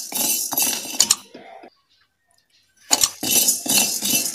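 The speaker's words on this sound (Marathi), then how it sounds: "त्यानंतर मी साबुदाणा थोडा भाजून घेणार आहे।" Sago being dry-roasted in a pan, with close-up bursts of grains rattling and clinking against the metal, broken by a pause of near silence before the scraping and rattling resume.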